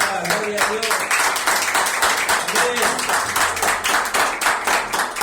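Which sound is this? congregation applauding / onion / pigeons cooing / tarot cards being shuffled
congregation applauding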